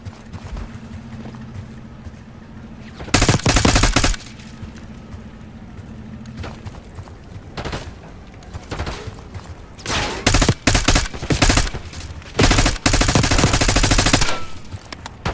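Automatic weapon fire in the Call of Duty Black Ops 6 campaign: several loud, rapid bursts of varying length separated by quieter stretches of low game ambience.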